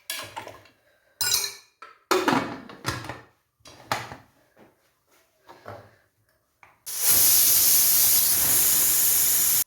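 Scattered clinks and knocks give way after about seven seconds to a loud, steady, hissing whistle from a pressure cooker cooking bone curry. The whistle runs unbroken to the end.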